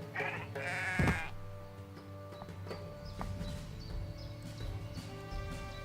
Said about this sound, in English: You calm the sheep that were charging at you, but feel tension growing. That was a big flock of sheep.